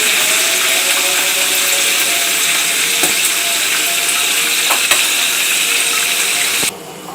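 Chicken pieces frying in oil give a steady, dense sizzle and crackle that carries on without a break, with a few louder pops near the middle and a short dip toward the end.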